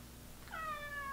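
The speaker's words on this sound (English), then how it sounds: "Papa, was that your little meow?" A pet cat gives a single soft, rising meow partway through, fairly faint against a quiet room, with no talking.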